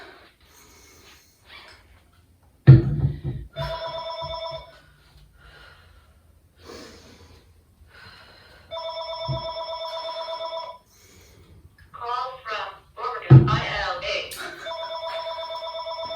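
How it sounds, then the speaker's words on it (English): A telephone rings in repeated bursts during a rest break in a full-body circuit workout at home, each ring loud and clear, alternating with a person's breathing and speech between the rings. "Ignore the phone call."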